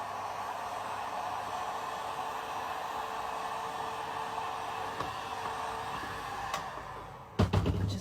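A heat tool melting encaustic wax during portrait painting blows a steady, soft whooshing hiss throughout, fairly quiet and unbroken, with a couple of light knocks near the end.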